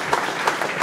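Crowd applause at a live music show, a brief burst of many hands clapping, fairly loud with slight pulsing and no clear voices.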